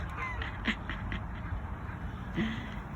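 Ducks quack in short, scattered bursts at moderate distance over a soft, steady outdoor background, with a few brief separate calls and no clear speech.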